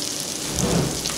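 Cumin seeds sizzling in hot oil for yellow moong dal, a dense hissing crackle like steady rain, close and moderately loud throughout.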